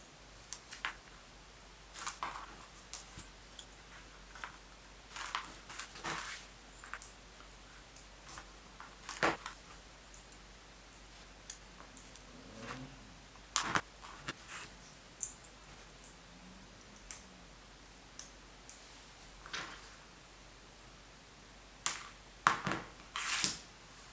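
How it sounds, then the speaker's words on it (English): Wire for a 5.8GHz circular polarized antenna is snipped into pieces, quiet sharp clicks of the cutter landing one by one at irregular intervals across a faint, otherwise still background. "And cut 6 pieces of wire."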